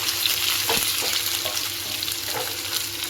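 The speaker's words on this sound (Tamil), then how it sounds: "வெங்காயம் இந்த பட்டை மிளகாலாம் நல்லா வெந்து வர ஆரம்பிச்சிருக்கு" Onion, cinnamon and dried chili fry in oil in a pan for apple chutney, sizzling steadily up close, with faint stirring scrapes throughout.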